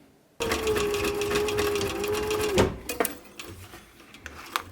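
A sewing machine runs steadily while stitching a leather mitten, a loud continuous whir that stops abruptly, followed by a few faint clicks and handling knocks.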